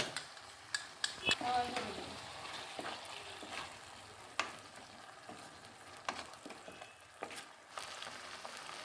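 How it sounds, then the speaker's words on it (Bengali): Capsicum paste frying in a pan for restaurant-style chicken dry chilli, a soft continuous sizzle with scattered utensil clinks and scrapes, louder clatter near the start, no speech. "ক্যাপসিকামের পেস্টটা দিয়ে দিচ্ছি পুরো ক্যাপসিকামের পেস্টটা দিয়ে"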